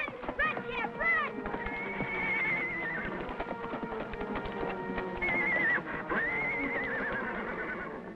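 A horse whinnies with shrill rising-and-falling neighs amid a steady clatter of hooves, with voices and other activity around it.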